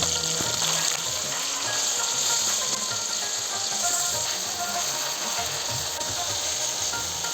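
Pomfret pieces fry in a hot pan for a fish curry, giving a steady close sizzle and crackle with scraping and clacks as they are turned over, continuing without pause and with no talk.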